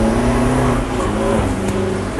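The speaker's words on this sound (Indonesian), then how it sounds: "pertama kalinya dalam hidup bawa mobil komersial ke tengah sirkuit." A racing version of the Toyota Rangga commercial pickup drives on the wet Mandalika circuit, its engine a loud, close, steady drone with shifting pitch and no talking over it.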